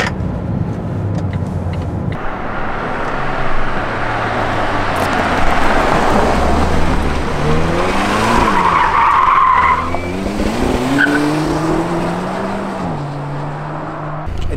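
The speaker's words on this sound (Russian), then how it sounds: "машина едет в отключенном ESP-режиме достаточно неплохо" Polestar 1 hybrid electric car accelerating hard with stability control switched off, a loud continuous roar of engine and motors with rising pitch sweeps through gear changes, tyres hissing and scrubbing on the road, steady and close with no talk.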